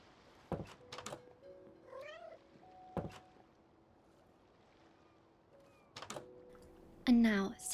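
A cat meows in a video game, with several short, rising calls scattered among soft thuds and clicks, including a louder meow near the end, over a quiet background.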